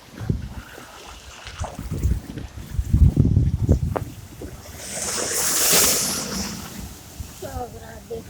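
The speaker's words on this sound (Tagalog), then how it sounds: "dahil sa kapanood ng malalaking alon na nakakatakot" Big waves roll in at Ormoc during a storm's monsoon surge, with low rumbling surges and a rising wash of surf amid gusty wind noise, while people talk excitedly nearby.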